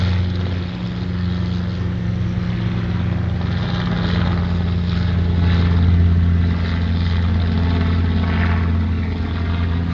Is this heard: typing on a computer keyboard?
no